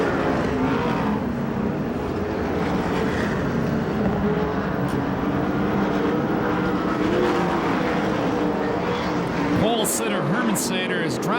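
USAC/CRA sprint cars race on the Perris, California track during the Salute to Indy event. A continuous, distant roar of several engines holds steady throughout, with cars blending together as they circle.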